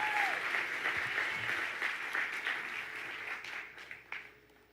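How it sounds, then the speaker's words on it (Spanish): A church congregation applauds loudly and steadily at a conference welcome service, a dense wash of clapping that fades toward the end. "Dale fuerte ese aplauso a nuestro Dios"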